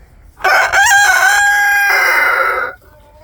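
A loud rooster crows once, close and drawn out for about two seconds, over quiet background.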